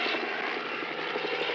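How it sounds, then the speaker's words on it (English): Helicopter noise in a film scene, a helicopter trying to pick up women from a rooftop: a steady, loud droning engine and rotor roar that fills the whole stretch without a break. "the noise of the helicopter trying to pick up"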